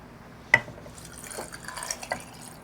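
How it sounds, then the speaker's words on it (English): Brine poured over jars of hot peppers, a sharp clink and then soft, faint trickles and drips of liquid, quiet and close with no talk. "I'm going to pour the brine"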